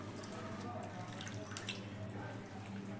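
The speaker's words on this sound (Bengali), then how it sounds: "এইভাবে আমি পেঁয়াজটাকেও ধুয়ে নিয়ে নিচ্ছি।" An onion is rinsed under running tap water at a kitchen sink, with a soft, faint steady trickle and a few small splashes and drips nearby.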